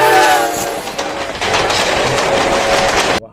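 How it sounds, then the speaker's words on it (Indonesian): A train rolls past up close, its wheels clacking steadily over the rails and a horn sounding near the start, loud and continuous before it cuts off abruptly. "Wow, ada kereta api lagi."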